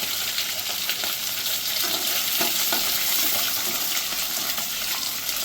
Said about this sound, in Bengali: এবার দুটো দিয়ে আমি একটু ভালো করে ভেজে নেব